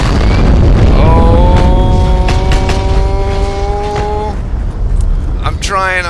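A tank rolls through a Heroes and Generals multiplayer match, heavy low rumbling overlaid with a rising mechanical whine and sharp booms, loud and close with voices in the background.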